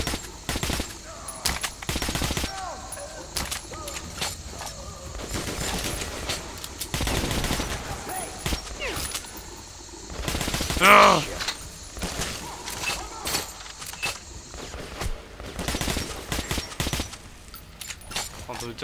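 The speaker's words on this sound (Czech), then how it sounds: "Takže on tam po něj vystřelil." Gunfire in the shooter video game Metro: Last Light comes as repeated sharp shots and short bursts over a busy game soundscape, while someone comments throughout.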